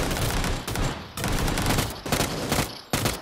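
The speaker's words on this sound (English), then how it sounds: "Oh, somebody shooting" Rapid bursts of video game gunfire crackle loud and close in dense volleys, broken by brief gaps over about three seconds.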